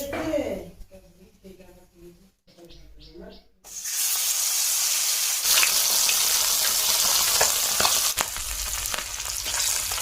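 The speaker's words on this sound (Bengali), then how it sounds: "তো চলো মাছগুলো আমি এখন ভেজে নিই। কড়াইটা বসিয়ে দিয়েছি" After a few seconds of someone talking quietly, fish seasoned with salt and turmeric hit hot mustard oil in a wok, and a loud, steady crackling sizzle fills the rest of the moment.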